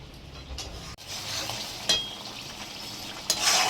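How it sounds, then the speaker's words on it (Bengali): Soybean chunks sizzle steadily in a hot pan as a spatula scrapes and stirs them, with a couple of sharper scraping strokes over the continuous close frying hiss. "সোয়াবিনগুলো দিয়ে দিচ্ছি, দিয়ে একটু কষিয়ে নেবো"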